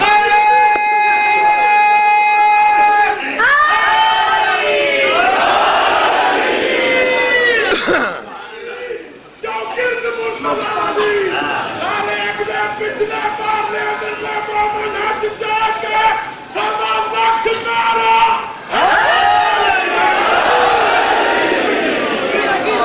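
A crowd at a Muharram majlis chants a religious slogan in loud, sustained, ringing voices that rise and fall over about twenty seconds, with a brief lull midway before the chanting surges again.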